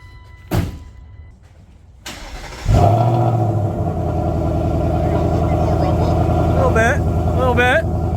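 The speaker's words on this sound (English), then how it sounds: "Start the car, remote start with the hood open." A 2024 Ford Mustang GT with American Racing headers, GT350 X-pipe and resonator-delete exhaust remote-starts with the hood open: a couple of clicks, then a loud cranking catch and a steady deep rumbling idle with a brief blip near the end.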